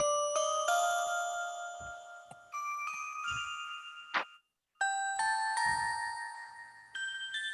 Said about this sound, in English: you can just do an echo an octave up